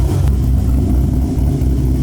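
A Camaro with an aftermarket exhaust and a cammed engine idling nearby, a low, steady rumble with a lumpy, choppy pulse and no talking over it.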